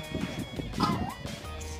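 A dog next door yips and whimpers in short, excited bursts, heard at moderate distance over a busy, noisy background with faint talk-like sounds.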